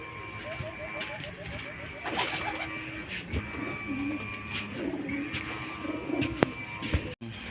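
Racing pigeons arriving home at a loft coo repeatedly and softly amid outdoor ambience, with someone talking intermittently over the birds.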